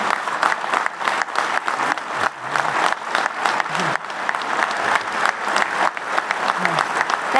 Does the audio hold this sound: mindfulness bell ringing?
no